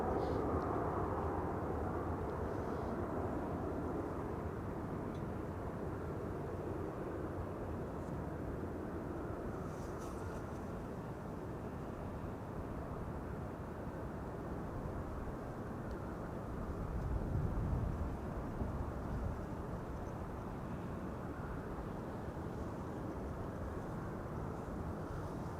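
Airliner departing Amsterdam Schiphol on runway 22, a steady broad engine roar heard from a distance, holding level and swelling slightly before slowly fading, with some wind noise.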